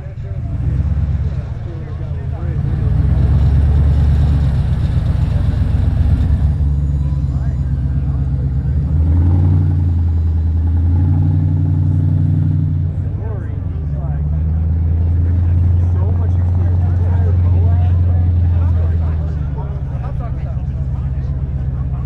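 Off-road wrecker trucks rev their heavy engines to flip a car over, a loud, sustained low roar that rises and falls in long pulls across the stretch. Voices talk over the engines.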